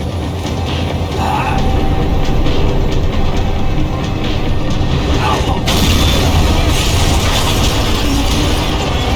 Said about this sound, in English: The tram was slowing down,